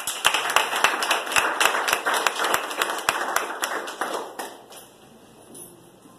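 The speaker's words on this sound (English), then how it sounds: "Let's give Mr. Arthur Best a round of applause." Graduation ceremony audience gives a round of applause, steady dense clapping with sharp individual claps standing out, fading away over the last couple of seconds.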